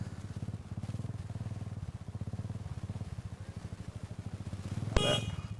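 Motorcycles pull into a fuel stop, a near engine pulsing in a rapid even low throb that continues steadily, followed by a brief sharp bright clatter near the end; no talk.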